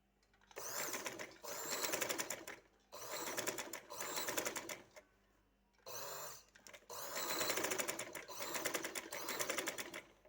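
An electric sewing machine stitching lace onto a suit slit design, running in several loud buzzing bursts of a few seconds each, separated by short pauses.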